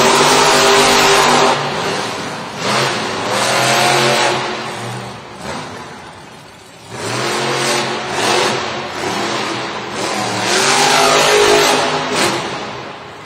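Monster trucks racing at a Monster Jam event in Cincinnati, including Gravedigger and Overboard, with loud, close engines roaring and revving in repeated surges that rise and fall continuously throughout.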